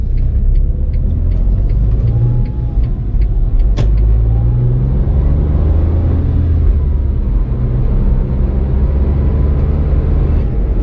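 A steady, loud engine and road rumble heard from inside a Smart ForTwo Passion 450 while driving, continuous throughout, with one brief click.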